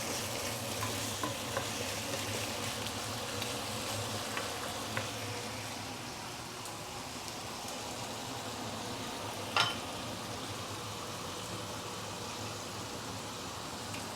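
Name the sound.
stir frying chicken in a wok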